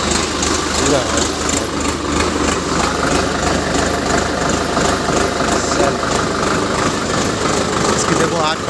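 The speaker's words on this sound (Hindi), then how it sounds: "और हमारे इतना बड़ा ट्रैक्टर है कि" An Ace tractor engine idles steadily up close, a continuous low rumble running throughout with voices talking over it.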